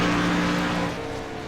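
Racing truck engines at a Phoenix race roar loudly at close range, a sustained droning tone that eases off slightly toward the end.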